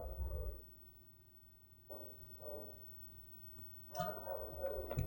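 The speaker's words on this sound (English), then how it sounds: "the dog is going to howl probably for the entirety of this video" Two dogs bark and howl at a distance, giving a few faint, drawn-out cries separated by pauses over a low background rumble.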